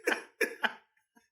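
A man coughs three times in quick succession, close and fairly loud, followed by a faint trailing throat noise.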